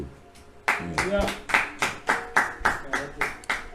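A church congregation claps for Jesus in a steady, even rhythm of sharp, close hand claps, starting after a quiet moment, with a voice speaking over the first beats.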